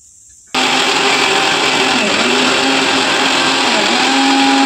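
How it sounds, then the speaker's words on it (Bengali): A kitchen mixer grinder whirs loudly and steadily as it grinds onion, ginger, green chili and cumin into a spice paste for Bengali fish curry, starting abruptly after a brief quiet moment and holding a constant motor roar. "আমি মিক্সিতে ঢেলে দিলাম"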